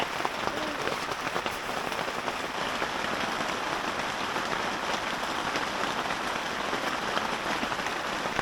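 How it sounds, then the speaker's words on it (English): A torrential rainstorm pours onto a DIY wall tent, producing an even, unbroken hiss and patter of dense drops on canvas. "Looks like we got about an hour left of this rain and everything's holding up pretty good."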